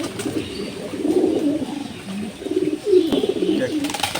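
Soft, rolling coos from racing pigeons fill a loft in Tangail, several birds calling in overlapping low warbles at close range, swelling and fading in uneven rhythm.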